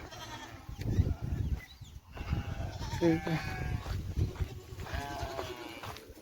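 Goats bleating in their pen at a village farm, several calls at mid distance mixed with a voice talking over them and general farmyard clatter.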